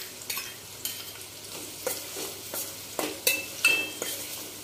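Onion cooks over a medium flame with ginger-garlic paste added, a soft, low hiss of frying under a series of sharp spatula scrapes and taps against the pan at an uneven pace, with no talking.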